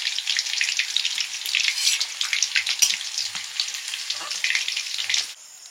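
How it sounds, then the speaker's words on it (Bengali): Chicken pieces frying in a hot pan for a paratha-and-chicken dinner on a rainy night, a steady close, dense sizzle with light crackle and occasional stirring that eases off at the end. "মাংসগুলো ভাজা হয়ে গেছে"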